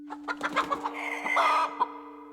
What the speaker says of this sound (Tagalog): itong mga alaga kong manok kung todo kong bantayan mahirap na